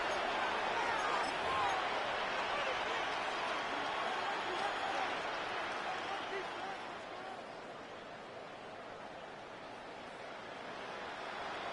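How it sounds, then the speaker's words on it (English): A stadium crowd roars at an American football game before a third-and-long play, with broad sustained cheering that swells loud, eases somewhat near the end and then builds again. "The crowd cranking it up another notch before 3rd and long"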